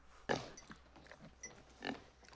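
A pig grunts and oinks twice, soft and fairly distant, with a short squeal between the grunts.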